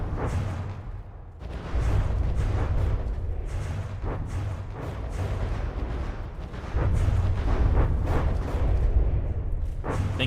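Video game turrets firing fast, a steady stream of deep thudding shots with a rapid rhythm, fairly loud and continuous, with no voices.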